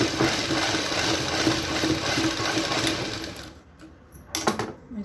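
A sewing machine stitches a blouse in a rapid, steady mechanical whir that runs continuously, then stops, leaving a few short clicks and thumps near the end.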